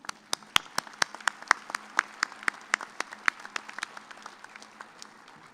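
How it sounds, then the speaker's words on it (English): Applause from a fall engineering commencement audience honoring graduates' families and friends: a thin scatter of individual, distinct handclaps at moderate distance, irregular and sparse throughout rather than a dense roar. "Please join me in giving your loved ones a well-deserved round of applause."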